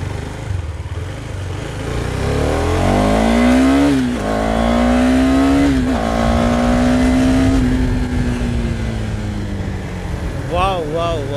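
A motorcycle pulls away from a start with a loud engine note that climbs through several gear changes, rising and dropping in pitch, with wind noise throughout and a brief voice near the end.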